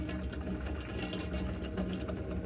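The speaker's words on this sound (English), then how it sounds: "So the water's just starting to come through properly now." Water running steadily from a tap in an Adria Coral 572 caravan, a continuous hissing, splashing flow at close range with no pauses.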